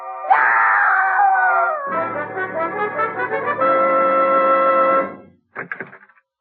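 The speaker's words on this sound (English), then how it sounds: "I heard a scream." In a radio drama a woman screams long and loud, the cry wavering into a moaning wail and then into a sustained shriek before a few short, broken cries fade out.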